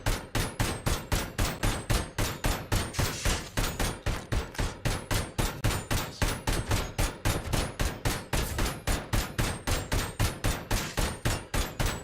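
ED-209 unloads on the player in the RoboCop: Rogue City video game: a long, loud, steady barrage of rapid gunshots with metallic clangs. The shots repeat evenly and closely spaced throughout, with no talking.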